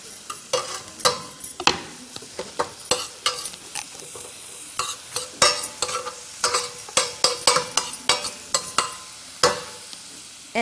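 Onion sizzles in a pan, a soft steady frying hiss broken by frequent sharp clicks and scrapes of stirring, repeating irregularly and close up, with no voices.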